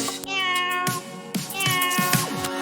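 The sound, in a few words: cat meowing in a Hindi nursery rhyme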